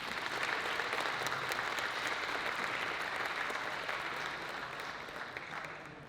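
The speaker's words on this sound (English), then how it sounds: "And another round of applause for our cornerstone members," A round of applause at an awards gala, many people clapping in a full, steady wash that stays strong for several seconds before slowly tapering off.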